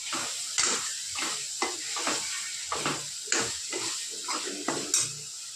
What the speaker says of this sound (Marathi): याला व्यवस्थित तेल सुटेपर्यंत तर परतून घेऊ.